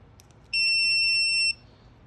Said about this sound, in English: that's the initial beep